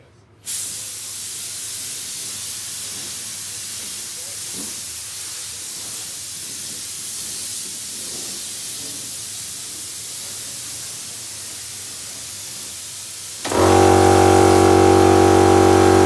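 A spray can hisses steadily as paint goes onto the crash pad of a Ford Cortina Mk3 2000E, a long continuous close spray that ends in a louder, rougher burst.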